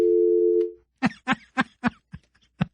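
A payphone's steady telephone dial tone hums for under a second and then stops, followed by a quick series of about seven separate clicks and clunks from the handset and mechanism.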